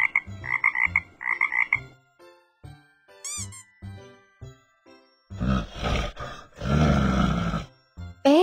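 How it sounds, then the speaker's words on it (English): Frog croaking in short repeated bursts, with deeper grunting calls and a louder sustained throaty croak toward the end, close and fairly loud. "Frog."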